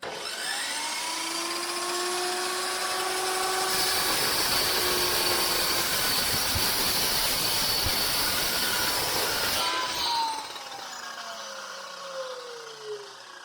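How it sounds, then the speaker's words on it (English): A non-abrasive metal-cutting cold saw slices through a steel bar for a budget rally car's front bumper, with a steady, loud, whining cut that runs for several seconds before the blade spins down alone. "I have to say this saw is awesome. It has been cutting really nice."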